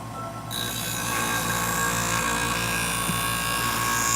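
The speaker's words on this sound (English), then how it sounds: "It's the best scissor sharpening system I have found." A scissor sharpening machine runs steadily, a close, continuous motor hum with a high whine and a rhythmic low pulsing that holds evenly throughout after a short quieter start, with no speech.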